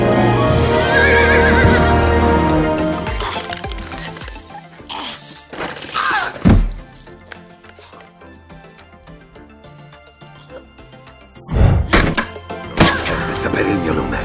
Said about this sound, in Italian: È il mio cavallo, signore.